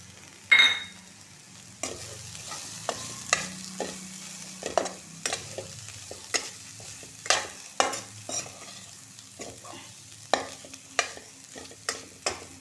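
A wild vegetable from the ghotya vine is stirred in a pan with Kitchen King masala, producing a steady run of distinct scraping and clacking strokes at an uneven rhythm, close by, with no talking.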